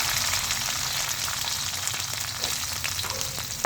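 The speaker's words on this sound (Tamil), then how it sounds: "ஆனியன் நல்லா வதங்கிக்கிட்டு இருக்கு" Onions sautéing in a pan for raw banana kurma, a dense, steady sizzle heard up close with faint stirring ticks and no voices.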